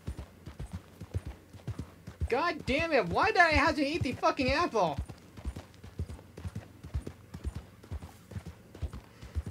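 Horse hooves clip-clop in Red Dead Online, a steady rhythm of sharp hoofbeats running the whole way, while a voice talks over the middle stretch.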